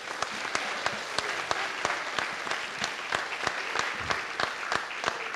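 A church congregation claps steadily and close, sharp rhythmic claps forming a continuous applause with no other sound over it.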